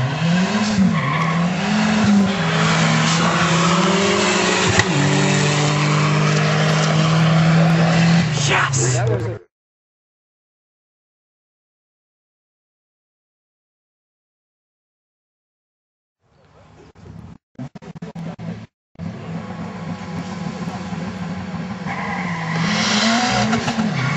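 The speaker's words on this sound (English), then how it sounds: "Micah in the Green Civic is one of the youngest races we've had so far." A green Honda Civic at a drag strip gives a loud, sustained engine roar with rising and falling revs. After a long silent gap the roar returns, with sharp bursts and steady engine noise.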